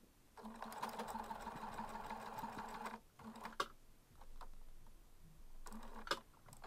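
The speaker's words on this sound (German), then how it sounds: "Die Klappe wird knappkantig dort abgesteppt." A sewing machine topstitching close to the edge of a fabric flap on a small fabric wallet, running in several close, steady bursts with brief pauses and a short stop-start in between.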